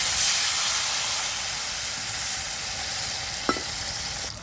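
Tamarind goes into garlic frying in a pan, giving a continuous loud hissing sizzle with a sharp clink of utensil partway through, close up.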